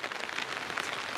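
Rain falling during a carnival event at Club Deportivo Municipal in San Pedro de Cajas: a steady, dense patter of drops on surfaces, close and even throughout the short stretch.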